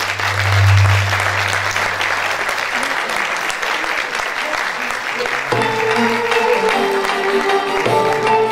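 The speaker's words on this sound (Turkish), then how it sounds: "Alkışlar Betül Başıgül için." Sustained applause from a concert audience for a choir singer, dense and steady clapping throughout, with a voice and a few tonal sounds entering near the end.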